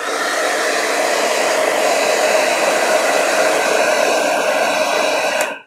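A hair dryer blows steadily and loudly on a watercolor painting of a forest, a continuous close whirring hiss that runs unbroken for several seconds before cutting off abruptly at the end.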